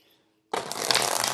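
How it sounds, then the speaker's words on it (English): A deck of tarot cards shuffled close up during a love reading: a single sustained riffle of rapid flicking that starts abruptly after a brief near-silence and runs steadily loud to the end, with no talking. "Let me get the deck shuffled out first before I do the love reading for you"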